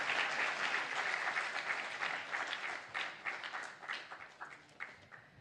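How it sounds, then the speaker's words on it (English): Audience applause rises for the dignitaries at the 2030 In Sight Live opening ceremony in Nepal. Broad, sustained clapping from a large crowd starts strong, then gradually thins into scattered claps. "Let's hear a round of applause for the very, very valued presence of all our distinguished dignitaries"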